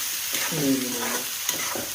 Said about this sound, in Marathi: त्यात आपल्याला परतत राहायचं आहे